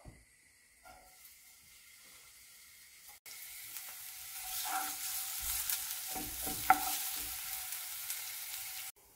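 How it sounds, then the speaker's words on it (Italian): Chopped onion frying in extra-virgin olive oil in a pan, a quiet start giving way to a steady close sizzle and hiss, with a few scrapes of stirring partway through. "Mettere a scaldare in padella un filo d'olio extravergine d'oliva. Far soffriggere la cipolla."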